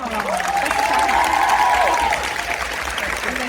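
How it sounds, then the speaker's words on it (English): A Comic Con Liverpool crowd at a Smallville panel breaks into sustained applause, a thick wash of clapping with a rising cheer or whoop carried over the top midway before it eases slightly. "can we give her a round of applause?"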